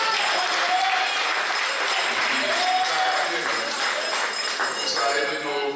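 An audience at a community consultation town hall gives the Master of Ceremonies a round of applause, a steady wash of clapping with voices mixed in.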